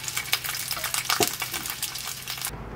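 A spatula scrapes four fried eggs out of a pan on a stove, giving short scratchy metallic scrapes and a faint sizzle close up, with no talking.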